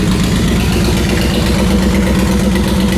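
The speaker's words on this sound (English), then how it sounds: "Bike does fire up right away, though. Got a good sound. Aftermarket pipes, everything." Honda VTX 1800 motorcycle with aftermarket exhaust pipes idling, a steady loud low rumbling engine note that holds even throughout.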